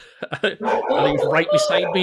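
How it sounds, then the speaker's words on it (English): A dog barks in a few quick sharp yaps near the start, then someone talks over the rest. "You can hear my dog barking"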